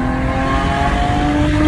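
A Lexus IS 250 engine holds a loud, steady rev, its droning note sustained and close for the whole moment, with no talking.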